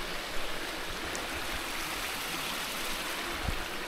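A small mountain stream in Montenegro flows in a steady, even rush of water close by, with a brief louder splash near the end and no voices.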